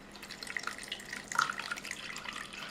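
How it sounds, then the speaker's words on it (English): Water pours and trickles over stones into the basin of a homemade tabletop water fountain, with bright splashing and burbling that is faint and steady. "then add water."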